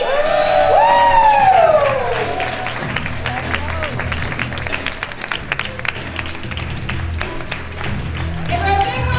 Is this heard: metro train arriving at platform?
no